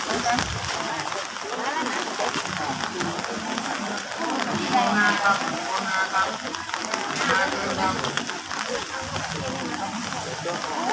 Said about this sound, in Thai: โอ้โหเนี่ยฝนเนี่ย ตกลงมาระดับหนึ่งนะฮะ